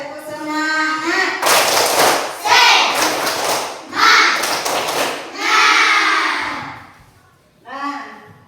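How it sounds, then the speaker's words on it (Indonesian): A primary-school class claps out a rhythmic 'tepuk semangat' cheer in loud, dense bursts of hand claps and children's chanting, several short rounds separated by brief pauses, with a teacher's voice heard between them. "Yuk bersama-sama kita tepuk semangat."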